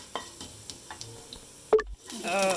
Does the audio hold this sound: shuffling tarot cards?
no